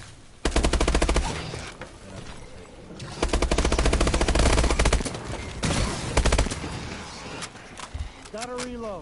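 Rapid machine-gun fire from a PS4 shooter game comes in long, loud, dense bursts separated by short pauses, with scattered single shots and a brief voice-like sound near the end.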